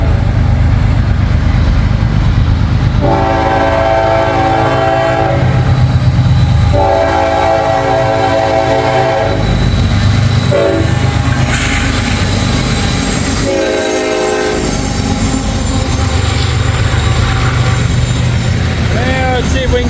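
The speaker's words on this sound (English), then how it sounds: "I believe we got us a grain train here." A freight grain train rumbles past close by, its horn sounding in several long blasts over the steady roar of cars and wheels.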